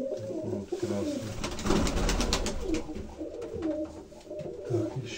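Red pigeons coo repeatedly close by, with overlapping throaty calls and soft rustling; no one speaks.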